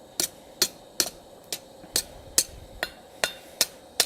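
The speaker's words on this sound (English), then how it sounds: "So I'll hammer it against the corner there." A steel skillet handle rings under a forging hammer against an anvil corner, nine or ten sharp metallic blows at an even, brisk pace, close and clear with no voices.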